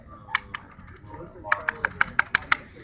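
Taps on a split mechanical keyboard with not-very-clicky switches: a couple of isolated keystrokes, then a quick run of about eight evenly spaced presses, close and fairly crisp over a low background hum.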